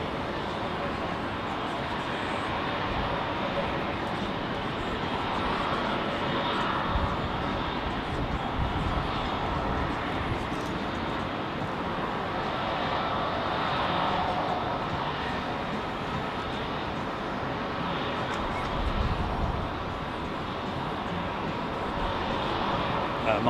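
A jet airliner climbs out from Heathrow Airport in the evening with a broad, steady roar that holds at an even level throughout, under continuous commentary from a nearby voice.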